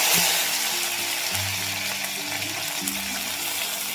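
Curry leaves dropped into hot oil already holding mustard seeds and cumin, crackling and sizzling steadily nearby with a few sharper bursts and low stirring knocks, no talk.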